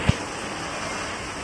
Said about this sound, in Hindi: लगभग लगभग एक डेढ़ घंटा तो हो चुका है बारिश होते हुए